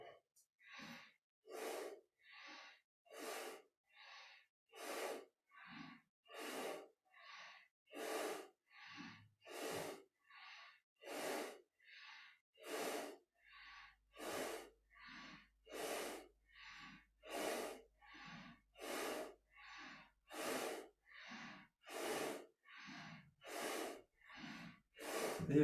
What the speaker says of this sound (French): Le souffle qui monte, qui descend avec Soham.